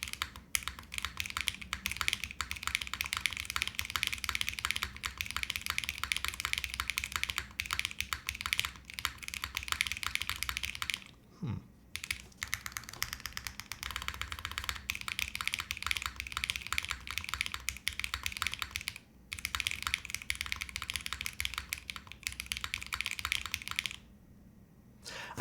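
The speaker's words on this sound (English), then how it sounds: "Let me keep typing." Continuous rapid typing on an Orbit65 mechanical keyboard, crisp clacking keystrokes up close with a few short pauses.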